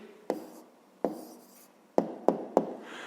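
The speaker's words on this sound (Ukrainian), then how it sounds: "Ну що ж, записуємо тоді відповідь." A pen marks down an answer on paper, producing five short, close taps and scratches spaced irregularly, the last three coming quickly together against a quiet background.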